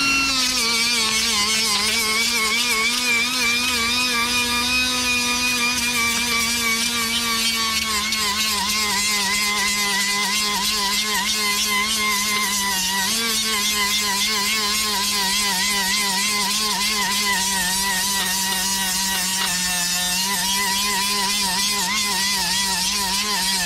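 An 80 grit sanding disc on a power tool smooths a MIG weld on mild steel sheet metal: a continuous, loud, steady motor whine with a slightly wavering pitch throughout.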